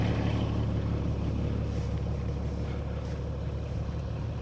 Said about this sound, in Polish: Ciągnik dopompuje jeszcze powietrza.